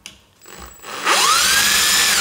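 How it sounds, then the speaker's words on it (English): A power drill driver spins up after a brief quiet moment, unscrewing a fastener on a BMW, its whine rising in pitch and then holding steady and loud, close by. "now I use again this electric drill driver, and I open"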